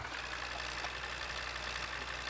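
A simulated MTZ tractor engine idles in Farming Simulator 15, giving a steady, low, continuous rumble with a faint knocking texture and no talk.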